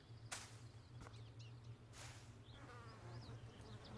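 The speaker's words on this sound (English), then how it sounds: "Ah, I'm being attacked by bees." Bees swarm and attack the player in the video game ArcheAge Online 2, a low steady droning buzz running throughout with scattered sharp clicks and faint chirps over it.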